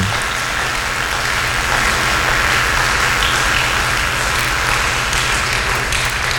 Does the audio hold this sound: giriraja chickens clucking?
no